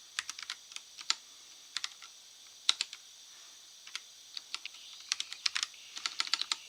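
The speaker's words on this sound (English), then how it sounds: "If I can type" Fingers type on a computer keyboard in quick bursts of clicks with short pauses between them. The keystrokes are close and crisp against quiet background hiss.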